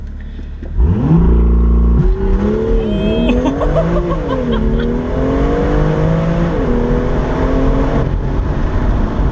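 A rear-wheel-drive BMW M2 roars as it accelerates hard, the pitch climbing steadily through gear changes, loud and close throughout.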